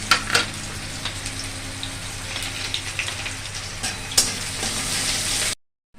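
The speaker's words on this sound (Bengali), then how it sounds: "গরম হয়ে গেছে, দেবো একটু পেঁয়াজ কুচি।" Chopped onion sizzling in hot oil for okra and potato curry, a steady close crackling hiss with a few louder bursts and stirring scrapes, no voices, cutting off abruptly near the end.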